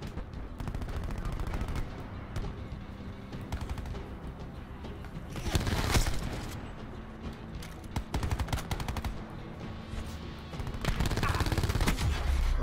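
Automatic gunfire in Call of Duty: Black Ops 4 rattles in dense, loud bursts throughout, with heavier volleys near the middle and at the end.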